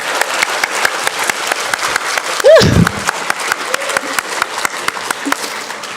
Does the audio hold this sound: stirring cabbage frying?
no